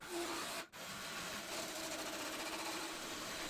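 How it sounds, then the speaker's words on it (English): An angle grinder grinds down the dented cab metal of a 1940 Ford pickup, a steady, loud, broadband whir that runs continuously apart from one brief dropout near the start. "we're just gonna grind down the perimeter of this so we can get a good kind of center line"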